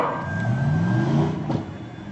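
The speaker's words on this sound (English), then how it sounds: "they'll spin the wheel, spin the automobile all the way around, shift the car, and proceed down the track" A stunt car at a 2003 stunt show spins all the way around on the track and then drives on, its engine revving and rising in pitch over about two seconds, loud and close, with no talk.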